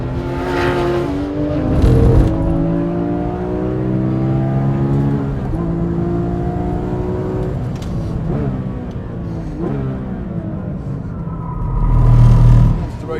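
A sports car from a comparison of the Porsche GT3 RS 4.0, BMW M3 GTS and Mercedes-Benz C63 AMG Black Series accelerates at full throttle on a race circuit. The engine note climbs repeatedly through the gears, loud and close, under a driver's talk.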